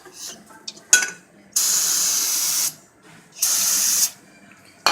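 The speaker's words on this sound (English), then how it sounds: "take that old handy dandy brake clean," Aerosol brake cleaner sprayed onto rusty brake hardware from a 2008 Honda Pilot, two loud hissing bursts of about a second each, close up, with small metallic clinks between them.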